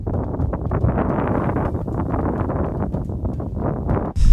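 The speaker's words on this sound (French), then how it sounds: "J'ai un énorme vent courant, comme vous pouvez l'entendre" Strong gusting wind buffets the microphone on a golf course during a storm, a loud, uneven rumbling roar that swells and dips continuously, with a brief sharper burst near the end.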